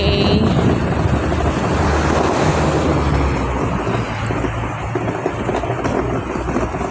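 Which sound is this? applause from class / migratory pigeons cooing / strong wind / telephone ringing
strong wind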